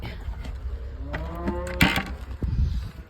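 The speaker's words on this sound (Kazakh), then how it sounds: "Оң жерде сиыр." Cattle on a Kazakh farm, moos rising over an outdoor yard, several drawn-out lowing calls overlapping near the mic in short succession, with a sharper burst midway and rustling around them.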